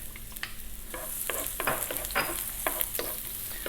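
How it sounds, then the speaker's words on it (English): Onion and garlic fry in sunflower oil in a small pan, a bright, continuous sizzle with repeated stirring scrapes and taps every fraction of a second, close and fairly loud, no talking. "I've got a little pan here with some oil in. I'm just using a sunflower oil. In goes the onion and the garlic."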